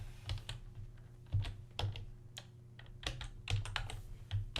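Rapid keystrokes on a computer keyboard while code is typed for a tile-swapping puzzle game's saving system, irregular clusters of close, crisp clicks with brief pauses, no talk.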